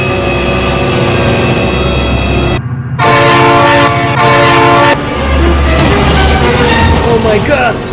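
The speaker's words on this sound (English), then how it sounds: "Oh my God, train!" Train horn blasts loud and close at a rail crossing while a train rolls past, the sustained tonal horn breaking off briefly then sounding again over steady rumbling; an excited voice shouts nearby.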